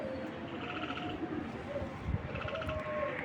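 Racing pigeons cooing in a loft, soft, low, repeated throaty coos from several birds close by under a murmur of background noise, with faint voices now and then.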